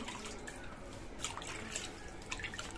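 Rohu fish being washed under water in a kitchen, a quiet continuous trickle and splash of running water with a few brief drips and light handling sounds, no voices.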